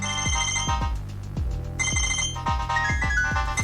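An Itel 2163 phone ringtone plays alone: a bright electronic melody over a steady thumping beat, loud and close.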